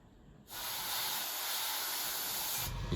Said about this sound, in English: that's a compressor.